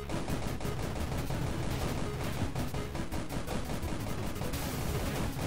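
Rapid, continuous automatic gunfire from a video game gun in UAmmo, a dense unbroken stream of loud shots filling the whole stretch.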